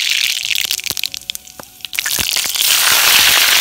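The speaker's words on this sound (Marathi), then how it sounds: "सर्वात आधी आपण याच्यामध्ये थोडंसं जिरं घालणार आहोत, थोडीशी मोहरी" Cumin and mustard seeds hit hot oil for a horse gram pithale, giving scattered sharp pops and crackles before the frying swells into a loud, steady hiss.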